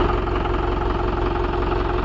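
A Mahindra 575 DI tractor engine idles steadily on small farmland, a loud, continuous low diesel rumble with an even throbbing pulse and no voices.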